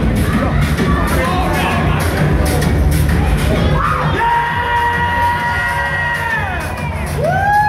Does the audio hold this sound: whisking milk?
no